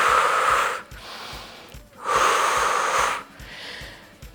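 Two long breaths during a standing abdominal workout, each a broad airy hiss lasting about a second, separated by short pauses and set against a faint rhythmic thump of movement.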